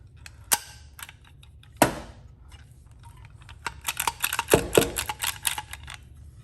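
Harbor Freight rivet gun worked one-handed, giving a few sharp snaps followed by a rapid run of clacking mechanical clicks, close and fairly loud against a quiet room.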